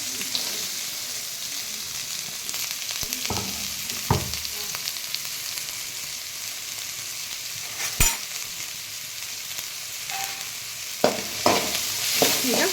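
Onions, garlic and green chillies frying in hot oil make a steady, bright sizzle throughout, broken by a few clanks and scrapes of a spoon against the pan, with no talking.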